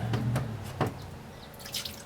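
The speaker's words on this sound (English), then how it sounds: "I'm going to put water in the tray" Tap water runs into a tray for washing out a photopolymer relief printing plate, splashing and dripping close up with a steady wash of sound that shifts and bubbles now and then. No speech.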